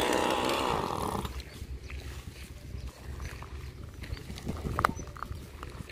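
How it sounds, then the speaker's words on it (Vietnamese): Chainsaw cutting into a eucalyptus tree outdoors: a loud, buzzing engine roar for about a second, then it drops back to a quieter idle and rumble with scattered knocks and rustles. "Giờ ba mình sẽ tiếp tục cưa cây bạch đàn tiếp theo."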